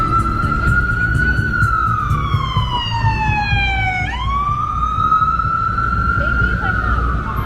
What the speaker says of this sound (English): Maybe the siren will drown out the music enough that I won't get a copyright hit.